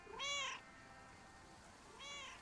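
A cat meows twice in the video game Lake: a longer, clear, tonal meow, then a shorter one after a pause, close and alone with no talking.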